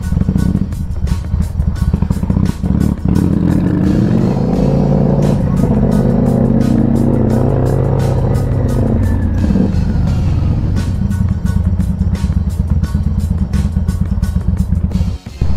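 Carbureted motorcycle engine idling while it warms up, a steady loud close rumble with fast ticking clatter throughout, and a voice speaking briefly over it.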